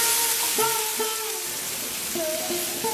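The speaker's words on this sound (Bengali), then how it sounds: "পেঁয়াজটাকে একটু সফট হওয়া পর্যন্ত 3 থেকে 4 মিনিট ভেজে নেব" Onions and tomato fry in a pan with a continuous sizzle, near and fairly loud, with faint clinks of a utensil over it.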